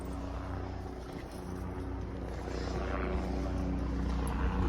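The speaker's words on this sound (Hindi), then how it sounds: "ये देखो हेलीकॉप्टर आ रहा है" Helicopter approaching over mountains near Badrinath, a steady low rotor drone with engine hum that builds slightly and stays fairly distant and quiet, with no talk over it.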